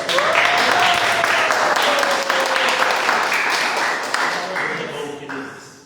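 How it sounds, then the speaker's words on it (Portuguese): A church congregation claps together in a steady, dense round of applause, loud and continuous, with a voice calling out over the clapping as it gradually tapers off. "Será que você pode aplaudir ao Senhor?"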